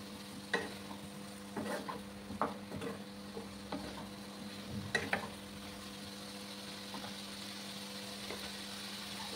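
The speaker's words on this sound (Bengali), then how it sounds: "ভালো করে আমি মশলাটাকে কষিয়ে নেব।" A masala for a Bengali small-prawn and cucumber curry being stirred and fried in a pan. Soft sizzling runs beneath irregular scraping and knocking strokes of the spoon, with no voices.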